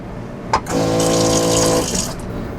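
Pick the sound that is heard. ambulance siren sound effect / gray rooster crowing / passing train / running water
running water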